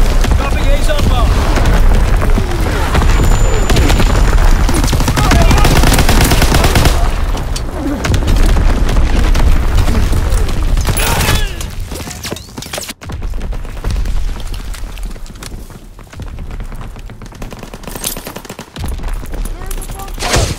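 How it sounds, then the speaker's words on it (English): Heavy gunfire and booming blasts from a naval battery and an Azon bomb drop in Call of Duty WW2 on a D-Day map, loud and dense throughout with rapid bursts, thinning and dipping in the later half. "Firing primary battery. Target position confirmed. Dropping Azon bomb."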